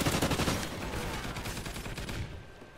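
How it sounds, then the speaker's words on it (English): Rapid automatic fire from an MTAR assault rifle in Call of Duty: Ghosts, a dense continuous burst of shots rattling close and loud before tapering off near the end. "I think I have rapid fire on my MTAR."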